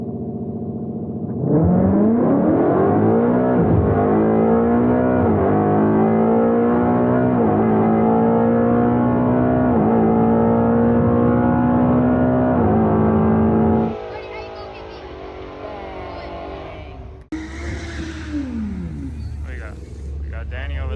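Drag racing cars, a Toyota Supra and a Ford Mustang 5.0, rev loudly with rising and falling engine notes over about twelve seconds, then the roar drops away into quieter mechanical sound and a brief burst.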